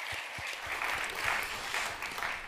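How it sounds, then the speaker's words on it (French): An audience at the final of a French eloquence competition applauds warmly, a dense, steady patter of many hands clapping without pause from start to end. "on peut les applaudir très fort."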